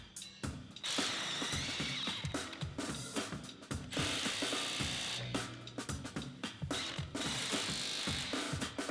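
Makita XWT14 and Dewalt DCF894 cordless impact wrenches with a 22 mm socket hammer away in loud, dense bursts of rattling impacts, running almost continuously with brief pauses between runs.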